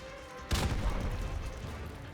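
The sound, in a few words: video game explosions and gunfire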